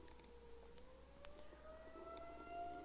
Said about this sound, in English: I think the tornado sirens are going off or something.